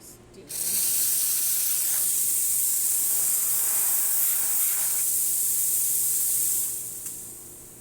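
Steam wand on a serviced ECM Technika espresso machine, a strong steady hiss that starts abruptly, holds loud and close for about six seconds, then tapers off.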